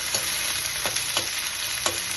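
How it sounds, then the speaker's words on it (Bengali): Tomato stirred and fried in a pan for mashed eggplant, a close sizzle with several quick spatula scrapes spaced about half a second apart. "দিলাম টমেটো, টমেটোটা দিয়ে একটু নাড়াচাড়া করবো"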